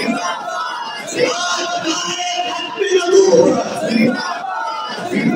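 Mass of worshippers at a Friday congregation yelling back a chanted response to a leader's slogan, a dense, loud wall of voices that swells toward the middle.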